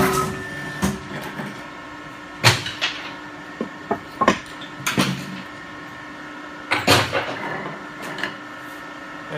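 A Bestlink CP90 40-ton stone recycling machine pressing a stone remnant in a mold, with scattered sharp clanks and thuds from metal and stone over a low steady mechanical hum, some impacts close and loud.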